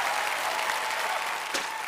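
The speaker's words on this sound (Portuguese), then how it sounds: "Uma salva de palmas para Arden Langley, malabarista de manteiga." A cartoon show's studio audience bursts into dense, continuous applause and crowd cheering after a butter-juggling act, loud and unbroken for the whole stretch.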